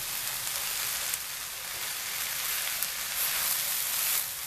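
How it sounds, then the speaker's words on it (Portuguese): Ragù meat sauce sizzles and fries in a pan while it is stirred, with a steady, fairly soft hiss and a few faint scraping touches. "Vamos mexendo para não agarrar o fundo."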